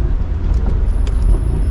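A Mercedes-AMG SL 63 Roadster exhaust droning loud and steady from inside the moving car, with brief dips in the rumble as quick gear shifts pass, over constant road noise.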